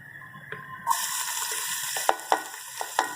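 Onions tipped into hot oil in a pan for aloo ki bhujia, setting off a sudden broad sizzle that holds steady, with several sharp clinks of a spoon against the pan over the frying hiss.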